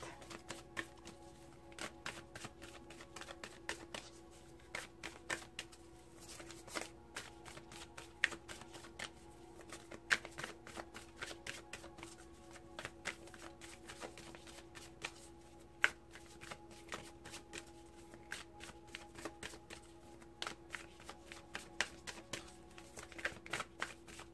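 Tarot cards being shuffled by hand produce a long, steady run of close, crisp riffling and flicking clicks with no talking.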